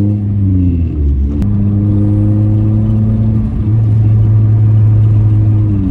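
A deep, rumbling 1989 Honda Prelude third-generation engine drones close by with steady low exhaust tones, shifting pitch as it revs and settles.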